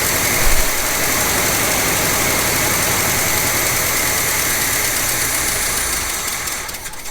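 Old 1970 GMC truck engine idling loudly and steadily with a rough, congested exhaust note, close by and without talk, easing off slightly near the end.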